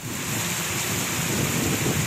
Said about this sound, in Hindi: चिन्योट और मंडी बहाउद्दीन में भी जमकर बारिश हुई